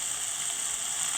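Onions and spring onions sizzle loudly and steadily in a pan alongside prawns, a dense, even hiss of frying with no break.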